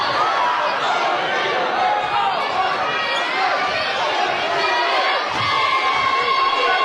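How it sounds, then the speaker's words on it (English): A girls' high school basketball sectional crowd murmurs and shouts in a gym after a disputed foul whistle, a dense, loud, continuous roar of voices that hangs on while a commentator talks over it. "Crowd did not like that call."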